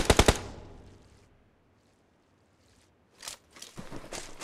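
A quick rapid burst of automatic gunfire in the mobile battle royale game BGMI, followed by a lull, then more bursts of shots that sound slightly farther away.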